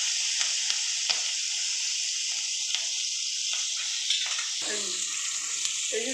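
Green chillies and tomato hitting hot oil with nigella seeds in a pan, giving a steady bright sizzle with small pops and stirring clicks throughout.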